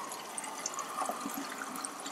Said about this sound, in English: So now I just did a quick rinse of the film just to coat the film